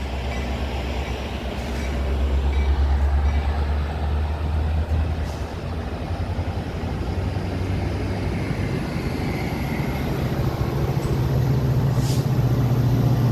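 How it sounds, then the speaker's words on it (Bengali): A double-decker diesel passenger train pulls out of a station bound for Chicago Union Station, its low engine rumble and rolling wheel noise steady and loud throughout, with no voices. "ট্রেনটি চলতে শুরু করেছে।"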